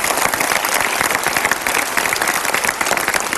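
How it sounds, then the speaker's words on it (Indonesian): A studio audience claps and cheers loudly for the band after their song, a dense, steady wall of applause that holds for the whole moment with no voice over it. "kita berikan tepuk tangan yang paling meriah"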